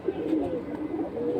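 Pet pigeons in a loft coo in low, throaty rolling calls, steady and close, with a faint murmur of background noise.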